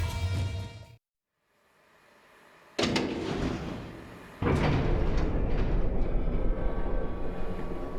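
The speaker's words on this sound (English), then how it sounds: "My green colored train." A green train moves through a scene in the video game Resident Evil: The Umbrella Chronicles, a loud, steady mechanical rumble that cuts in abruptly after a brief near-silence and keeps rolling to the end.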